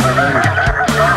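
Snow geese honk loudly and close in flight during a Pennsylvania hunt, several overlapping nasal calls repeating over a second with a steady background of many birds.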